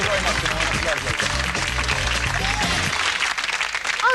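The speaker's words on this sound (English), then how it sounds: "Give them a round of applause." Studio audience applause on a comedy show, broad steady clapping with music underneath, fading toward the end as a voice cuts in.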